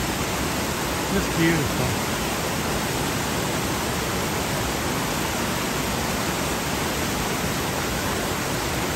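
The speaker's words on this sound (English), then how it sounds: "But this is the waterfall." A hidden waterfall in Barotac Viejo, Iloilo, Philippines roars as a constant broadband rush of falling water, close and loud, with a brief spoken remark early on.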